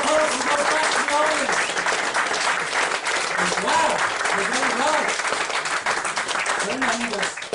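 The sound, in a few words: audience applause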